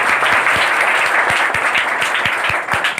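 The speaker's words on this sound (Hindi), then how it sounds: "हम पटना सर के लिए हम लोग एक बार जोरदार ताली देकर उन्हें स्वागत करते हैं" A crowd at a motivational speaking event gives loud, sustained applause to welcome a speaker, with dense clapping and a few sharper claps standing out throughout.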